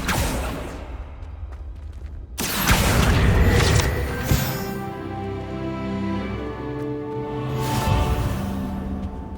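A Confringo blasting-spell explosion in the Hogwarts Legacy video game, a sudden loud boom with a whooshing burst that rolls into a sustained rumble, then a quieter swell near the end.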